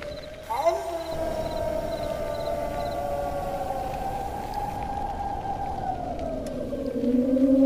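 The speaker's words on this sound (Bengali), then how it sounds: "আর দূরে কোথাও শিয়ালের ডাক ভেসে আসছে" A jackal's long, drawn-out wavering howl carries from far away over a steady hiss of background noise, rising slightly toward the end.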